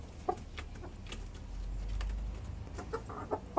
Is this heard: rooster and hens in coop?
yes